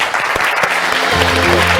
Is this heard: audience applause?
yes